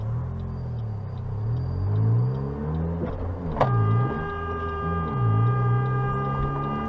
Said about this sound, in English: My loud car has to go slow for 5 seconds.